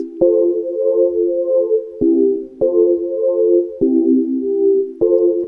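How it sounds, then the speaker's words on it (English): A smooth synth on an Ableton Push 3 in standalone mode plays a slow chord progression, each sustained chord changing every second or so with a soft attack, clean and alone. "So now it's just the chord progression on this one."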